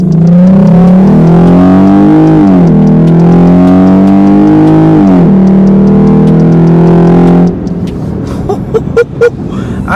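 A 2020 Jeep Grand Cherokee V6 fitted with an MMX throttle body and K&N cold air intake accelerates hard, its loud engine climbing in pitch through two gear shifts before easing off near the end.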